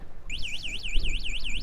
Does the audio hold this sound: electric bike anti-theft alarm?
yes